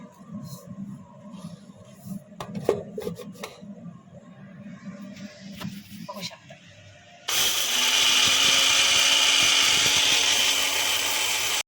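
An electric grinder whirs into a loud, steady roar as it grinds cumin seeds into powder for chicken biryani, after a stretch of quieter clattering and handling sounds.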